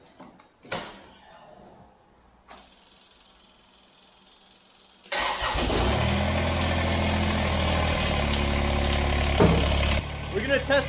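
A Kubota engine, freshly fitted with new bearings, cold-starts after a few quiet clicks and a short crank, then settles into a loud, steady, rough diesel idle close by.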